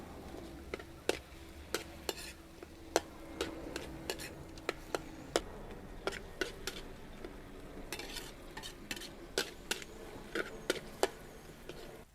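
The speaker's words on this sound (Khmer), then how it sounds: "ខ្ញុំឆាពុះឲ្យឡើងឆ្អិនល្អ" Sliced bamboo shoots stir-fried in a pan for a snake dish, a long run of quick spatula clicks and scrapes against the metal over a soft continuous sizzle, close up with no talking.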